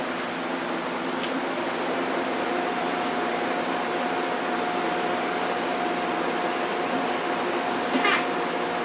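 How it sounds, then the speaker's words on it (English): A YesWelder 135 welding machine runs after being switched on, giving a steady, even electrical hum with a faint tone, plus a few brief clicks. "Turn the welder on."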